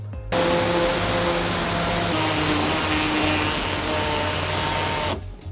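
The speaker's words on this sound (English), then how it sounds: "we're gonna take our air saw and we're gonna cut off this entire lip" Pneumatic air saw cutting through the plastic lip of a 2004-2020 Toyota Sienna's underbody panel, a loud, steady buzzing hiss running continuously for about five seconds, starting and stopping sharply.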